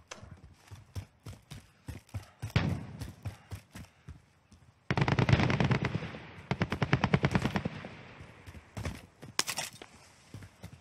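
Close, loud automatic weapon bursts crackle through a Warzone firefight, scattered single shots and quick footfalls leading into a long sustained volley, then fading to sparse pops.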